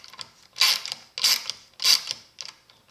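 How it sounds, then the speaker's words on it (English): A Craftsman Mach ratchet clicks at its head, three bursts of quick, close, creaky ratcheting with short pauses between, alone in a quiet room. "now the ratcheting is all based right here on the head."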